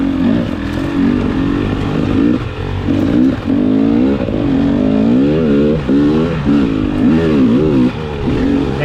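A motorcycle engine on an enduro dirt bike revs hard and close, rising and falling in repeated throttle blips with a rough, clattering tone, loud and continuous with no talking.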